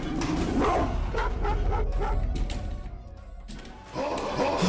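A dog in a video game barks and yips in quick bursts while attacking, the sharp calls repeating near and loud over game noise, then briefly dropping away before resuming.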